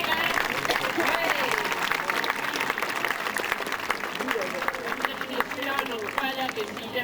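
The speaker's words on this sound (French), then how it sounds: "on peut les applaudir, hein?" An audience at an aquarium show claps steadily and continuously, a dense, close wash of applause with voices mixed in.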